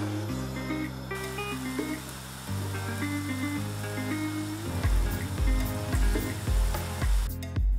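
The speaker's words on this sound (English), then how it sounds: "I'm shallow frying them in some sunflower oil." Falafel sizzles and crackles steadily as it shallow-fries in hot sunflower oil, a continuous frying hiss beneath background music.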